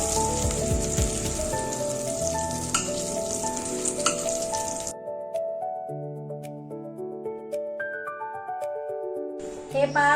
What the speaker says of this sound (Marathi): पुन्हा एका साईडने आपण त्या परतून घेऊया